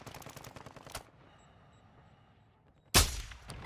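Automatic gunfire in the Call of Duty DMZ game: a rapid burst rattles for about a second, falls to a low hum, then a second loud, close blast erupts near the end, with no talk over it.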